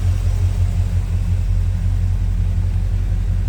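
A 1984 Chevrolet Scottsdale C10 V8 with a Holley four-barrel carburetor and HEI ignition idles steadily with a deep, even rumble, close and alone.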